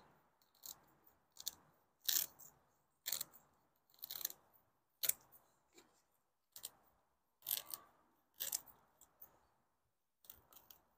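Scissors snip through dead roots of a Grammatophyllum orchid during repotting, a quiet, close series of about a dozen crisp, crunchy cuts spaced irregularly with short pauses between them.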